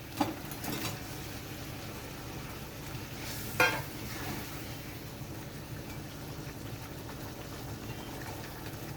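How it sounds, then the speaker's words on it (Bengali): Fish being stirred into a simmering spiced gravy in a cooking pan, a steady low bubbling and sizzle throughout with a sharp scrape of the spoon near the start and another clatter midway. "মাছগুলো গ্রেভির সঙ্গে ভালো করে মিশিয়ে নিচ্ছি"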